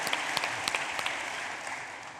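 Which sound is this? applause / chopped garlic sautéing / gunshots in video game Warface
applause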